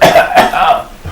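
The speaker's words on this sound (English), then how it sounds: "I gave a sly and a sarcastic cough." A short, deliberate sarcastic cough, loud and close, in a few voiced bursts that sound like it is partly spoken.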